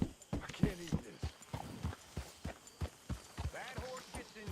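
Horse hooves clip-clopping in Red Dead Redemption II, a steady rhythmic series of close hoof falls mixed with brief game voices.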